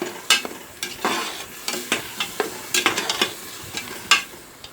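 Ginger-garlic paste frying in oil in a pan, with irregular sharp clacks and scrapes of a spatula over a light, crackling sizzle.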